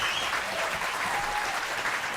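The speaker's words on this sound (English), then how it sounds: "Let's clap for the producers." Studio audience applause for the producers, a brief burst of steady clapping that is fairly faint and heard alone.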